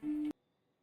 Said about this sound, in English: Of course my phone is ringing